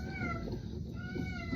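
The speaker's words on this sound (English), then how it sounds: "a meowing cat that won't leave me alone or not shut up" A male cat meows insistently, several drawn-out tonal cries sounding close and fairly loud over low household rumble early in the morning.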